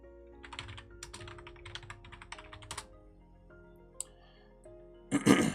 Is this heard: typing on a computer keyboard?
yes